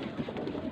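A brief, soft, low pigeon coo rumbles against a steady background hum.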